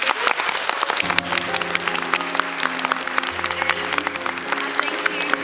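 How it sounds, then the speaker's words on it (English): Lively audience applause at the Odyssey literary festival for three panelists, a thick continuous clatter of many hands with sustained musical tones coming in underneath partway through. "Can we just have a round of applause for these three fabulous people?"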